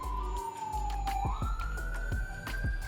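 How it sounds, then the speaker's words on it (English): Police siren wailing somewhere behind an outdoor drone flying spot, a steady tone that bends and rises in pitch, heard at moderate distance over a buzzing drone motor and repeated ticking clicks. "Siren behind me"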